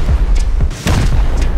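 Rocket explosions during a raid in Rust, a few heavy booms and thuds in quick succession, loud and close, with a brief dip before the last impacts.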